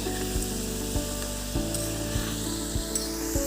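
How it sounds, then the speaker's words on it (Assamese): Nimki pieces fry in hot refined oil in a kadai, giving a steady close sizzle with light stirring clicks and scrapes, and no talk. "অলপ ৰঙচুৱা হোৱালৈকে ভাজি থাকিব।"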